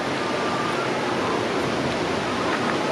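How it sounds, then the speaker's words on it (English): Steady broadband roar of the waterfall at Mother Falls in Baler, Aurora, a constant rushing wash of falling water with no talk over it. "So while we are waiting for low tide, we come to Mother Falls to swim."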